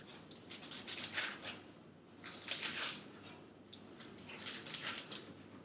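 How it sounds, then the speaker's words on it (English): A knife slices through cooked food for a salad in repeated scraping, rasping strokes, close and fairly quiet, with short pauses between cuts. "Now I'm just going to cut it a bit, and then I'm going to add it to my salad"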